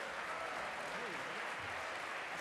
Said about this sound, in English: Give the panelists a round of applause.